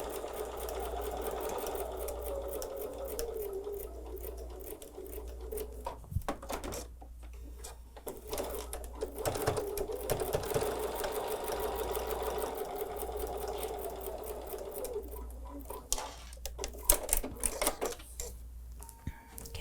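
A sewing machine stitches a seam for a Christmas quilt project, its close mechanical whir rising and falling in runs, with pauses, clicks and handling noises between bursts of stitching.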